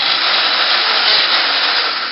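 A motorized dental burr grinds on a horse's teeth with a continuous high, rasping whine, close and loud, holding steady for about two seconds without pause.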